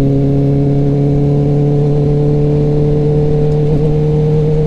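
A 2021 Kawasaki ZX-10R motorcycle cruises on an expressway, its engine a loud, steady drone with strong sustained tones and heavy wind rush at an even speed.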